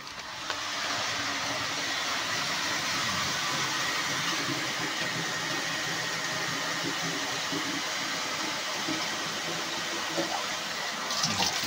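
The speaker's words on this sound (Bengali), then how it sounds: "জল ফিল হয়ে গেছে, বন্ধ করলাম।" At an RO water plant, water runs into a container with a steady, hissing, rushing flow that carries on evenly, fairly faint, and cuts off near the end.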